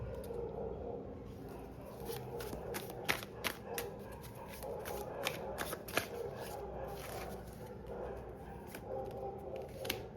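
A deck of oracle cards is shuffled and drawn by hand, giving quick papery riffles and soft flicks in irregular bursts, close and quiet.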